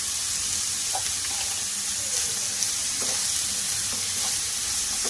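Biryani masala with green chillies sizzles and crackles steadily in a hot pan, with soft scraping stirs cutting in now and then; close and continuous, with no talking.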